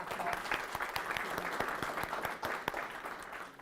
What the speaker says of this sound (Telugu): Please give him a big applause.